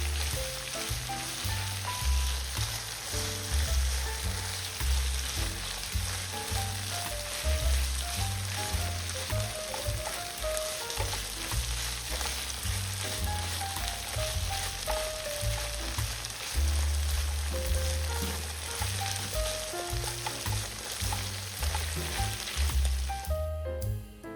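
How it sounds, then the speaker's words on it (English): Peppers and tomato paste sauté and get stirred in a pan for homemade enchiladas, a soft steady sizzle running underneath prominent melodic background music throughout. "We stir and sauté the paste well until it develops a richer color, loses its raw taste"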